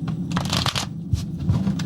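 A deck of tarot cards is shuffled close by, a brief burst of soft riffling and slapping card sounds.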